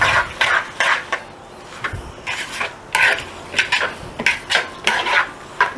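A falafel mixture with Cretan olive oil and lemon juice stirred in a bowl, giving repeated scraping clinks and swishes of a utensil against the dish in an irregular rhythm, close and moderately loud, with no talk.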